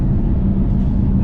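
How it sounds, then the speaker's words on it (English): Inside a BYD Tang on the move, tire noise comes through as a dull, steady low roar that fills the cabin, with no talking over it. "tire noise suddenly became a little bit more dominating"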